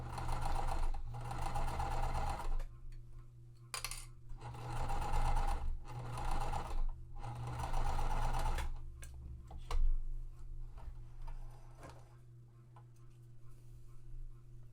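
A sewing machine runs in several bursts of stitching through quilt seams, its motor humming steadily between pauses, close and fairly loud, with quieter handling and clicks in the gaps.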